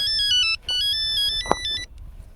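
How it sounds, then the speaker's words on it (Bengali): A mobile phone ringtone for an incoming call plays a bright electronic melody in repeated short phrases, loud and close, stopping after about two seconds. "একটা ফোন আইছে"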